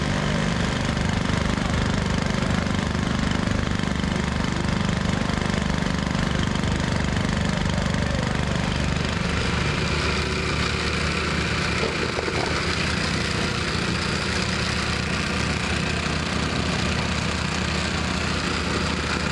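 A compactor pounds a patched street repair, a loud continuous engine roar with rapid vibrating thuds running steadily and close throughout, with no pauses.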